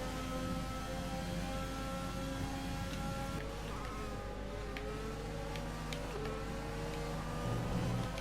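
A Formula 1 car engine drones steadily at high revs through the Monza circuit in the F1 2020 video game, with buzzy harmonic pitches that shift slightly as the car races on throughout.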